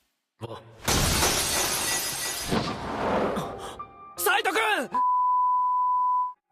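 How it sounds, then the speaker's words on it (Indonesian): A sword in an anime shatters with a loud, bright crash of breaking metal and glass-like fragments, then scattered crackles and ringing chimes, ending in a steady high electronic tone. "pedang kesayangannya tidak bisa menahan lagi, lalu hancur, dan Saito terpental."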